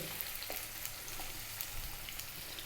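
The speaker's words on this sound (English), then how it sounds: "In goes the onion, the tablespoon of chopped garlic." Onion and chopped garlic frying in olive oil over just-above-medium heat, a steady close sizzle with faint crackles throughout, no voices.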